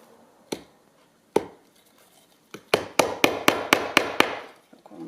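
Hammer blows driving tacks into a traditional upholstered drop-in seat covered in thick fabric: a few scattered knocks, then a quick run of seven sharp, close, loud taps.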